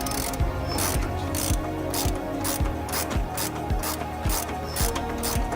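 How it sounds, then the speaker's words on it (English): A ratchet with an 18mm socket clicks rapidly and steadily while tightening a lock nut on a Toyota Hilux during an air bag suspension install, close up and loud with no talking. "And then we use a 19mm spanner at the back on the line lock nut, an 18mm socket on the front,"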